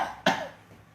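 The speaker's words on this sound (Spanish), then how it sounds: "siga tosiendo" A woman gives a single sharp, harsh cough while her larynx is being anesthetized in a medical procedure, close and abrupt, followed by a brief raspy tail and quiet.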